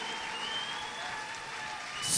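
Brief applause from a congregation at a church testimony gathering in Geneva, Switzerland: a soft, even patter of many hands that swells slightly at the end, without speech.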